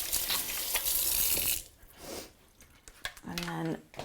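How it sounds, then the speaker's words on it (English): Tap water running in a kitchen sink while hands are washed, a close, steady splashing rush that breaks off partway and returns in short sloshes, with a voice briefly heard. "Let's wash my hands."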